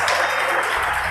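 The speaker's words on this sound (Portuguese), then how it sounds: "libere um som de glória e aplauda ao Rei dos Reis" Congregation at a church service clapping and cheering together, a dense, steady wash of applause filling the room at close range.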